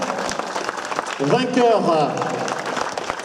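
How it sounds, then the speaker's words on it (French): Audience applause at the prize ceremony for the Route de France women's cycling time trial, a steady clapping wash running throughout while an announcer speaks over the PA in French. "on applaudit plus fort encore la lauréate du prologue du jour"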